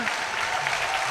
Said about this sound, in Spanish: por favor, un fuertísimo aplauso para la Rianxeira de Natalia y Manolo